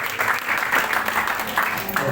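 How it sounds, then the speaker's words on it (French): Church congregation applauding and cheering in praise of the Lord, a steady, loud wash of clapping with crowd voices mixed in throughout. "On acclame le Seigneur."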